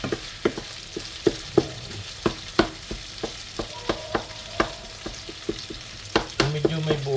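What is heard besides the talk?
pork frying and browning in a pan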